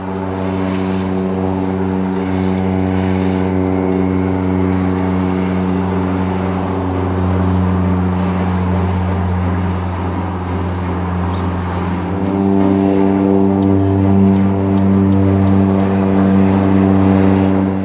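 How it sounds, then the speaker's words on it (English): Seaplanes with propeller engines taking off from water, a loud continuous droning hum that holds steady and swells slightly louder toward the end, with no voices. "a couple of seaplanes are coming in to get their passengers for the day. Let's watch them take off"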